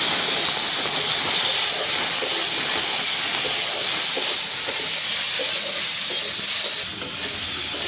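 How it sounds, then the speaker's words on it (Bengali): Browned potato pieces and kochra fry in a wok with a loud, continuous hissing sizzle, while a utensil stirs them with repeated scraping and knocking close by. "এর উপরে আমি কচড়াগুলোকে দিয়ে দেবো। আর একটু নেড়ে নেবো।"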